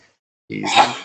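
A single loud, close sneeze bursts out during a tabletop roleplaying game's character creation session, lasting about half a second after a moment of silence.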